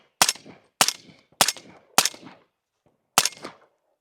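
A suppressed Q Sugar Weasel rifle firing subsonic ammunition with a Surefire SOCOM SPS 300 suppressor: five muffled, fairly loud shots, four at an even pace and a fifth after a short pause, each with a brief tail and no talk.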